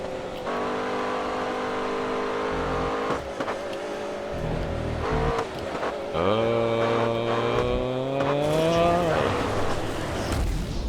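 A race car engine in the racing game GRID: Autosport revs and accelerates hard out of a turn, a loud sustained whine that climbs in pitch, heard continuously and up close.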